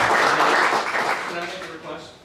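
Applause for committee members at a historical building marker presentation for Oskaloosa Savings Bank, loud clapping at the start that fades over about two seconds.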